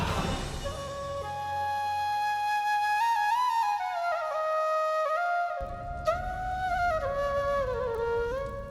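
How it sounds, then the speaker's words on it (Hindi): A bansuri bamboo flute plays a flowing melodic phrase with bends and ornaments over a low drone that drops out partway, with a brief sharp accent near the end. "ये तो उसी बांसुरी की ध्वनि है जो मैंने स्वप्न में सुनी थी"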